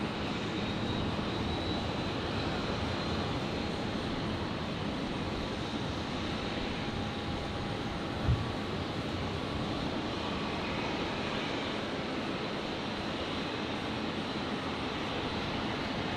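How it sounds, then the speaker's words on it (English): A distant Jetstar Boeing 787 Dreamliner turning onto final approach at Brisbane Airport at night roars as a low, steady engine rumble, broad and constant throughout, with no voices. "The Jetstar Dreamliner just beginning its final, just beginning its turn onto final."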